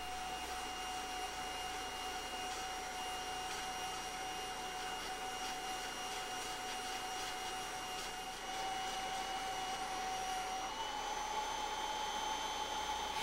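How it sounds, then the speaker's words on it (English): A Kirby G5 vacuum hose runs steadily, sucking lint off a Zippbrush attachment, with a constant loud whine and airflow roar that shifts slightly in pitch partway through. "Then use the hose to clean any lint from the brush."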